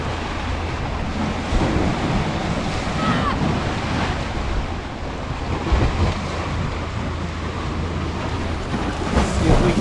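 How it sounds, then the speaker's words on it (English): Surf breaking continuously onto a Hobe Sound, Florida beach, a steady broadband wash with periodic swells of louder crashing and gusty wind noise buffeting the microphone throughout. "There's some waves. Come flying in there now."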